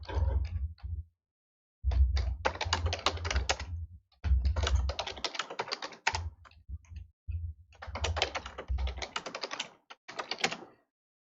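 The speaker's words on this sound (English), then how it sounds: "You can hear him type." Someone types on a computer keyboard in bursts of rapid key clatter, fairly close, broken by short pauses, with a low background rumble and no talking.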